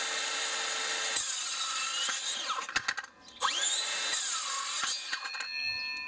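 A Makita DHS680 18v brushless cordless circular saw cuts through wood. A loud, high motor whine holds steady, dips and sputters briefly midway, then surges again at full speed, with no talking.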